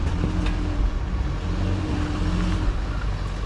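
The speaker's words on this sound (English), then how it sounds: "Just keep a little steady throttle." A Jeep that has slid off the road idles and rumbles at steady low throttle while backing up, a constant close engine drone with no speech over it.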